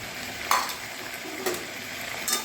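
Chicken sautés in a pan and gets stirred now and then. A steady close sizzle carries through, broken by three short scraping clinks of a spoon against the pan, and no one speaks.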